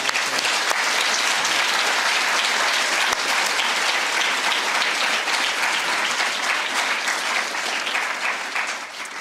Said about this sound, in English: give all of those people a massive round of applause